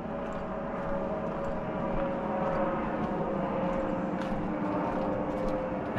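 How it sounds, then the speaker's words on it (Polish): An airplane passes overhead outdoors in a forest, its steady broad engine roar and drone filling the whole stretch at moderate distance with no speech. "A to ten samolot, dobra."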